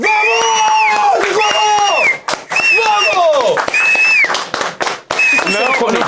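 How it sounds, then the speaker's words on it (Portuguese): A studio audience claps and cheers loudly, with whoops and shouts rising over sustained applause, while voices speak over the crowd noise throughout. "Muitos aplausos. Mas eu quero muito barulho."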